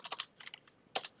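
Quick taps on a new computer keyboard, about half a dozen soft clacks in two short bursts, close and fairly quiet with no talking.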